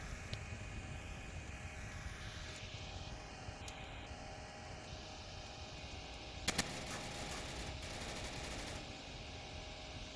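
Gunfire in the VR shooter Onward during a competitive match, sustained automatic fire at a steady level under broad background noise, with a sharp burst of crackling shots in the middle.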